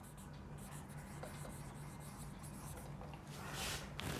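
A pen scratches faintly and continuously across paper while an accounting entry is written out by hand, with no speech over it.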